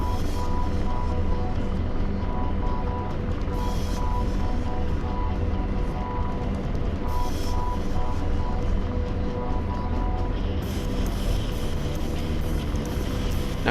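Apache attack helicopter in flight in a combat video game, a continuous droning rotor and engine hum that holds steady throughout, with faint talk in places.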